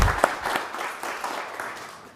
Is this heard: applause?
yes